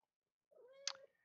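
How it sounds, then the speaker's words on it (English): A single cat gives a short, faint meow in the background of a quiet room, rising and falling over about half a second with a small sharp peak near its end. "apologize for any cat noises in the background"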